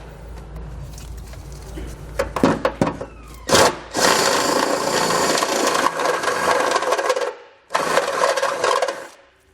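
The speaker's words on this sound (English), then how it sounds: "the way I am going to enlarge it is by using a step drill bit" A power drill with a step drill bit whines and grinds, enlarging a hole for a trailer hitch install on a 2021 Subaru Forester, in bursts: short stuttering pulses, a long steady cutting run, a brief pause, and another run.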